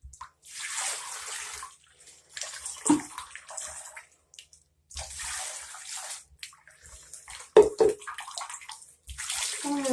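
Water is poured from a cup onto hair in several splashing gushes close by, each lasting a second or two, with short quiet pauses between them.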